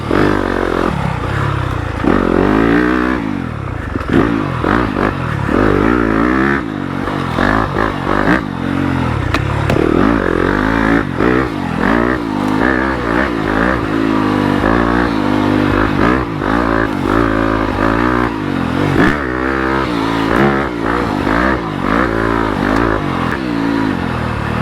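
A 2020 Yamaha YZ250FX dirt bike ridden along a trail, its engine loud and close throughout, rising and falling with repeated throttle revs and gear changes, with some clatter from the ride.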